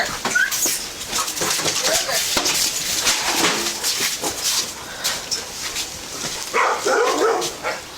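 Several household dogs bark and yelp in short repeated bursts close by while people shout commands over them, the barking and voices overlapping throughout.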